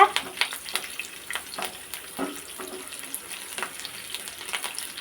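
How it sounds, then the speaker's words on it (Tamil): Garlic sizzles in hot oil in a kadai, crackling steadily with scraping stir strokes, close and moderately loud, with no voices. "பூண்டு சேர்த்து ஓரளவுக்கு நல்லா வதக்கிக்கோங்க"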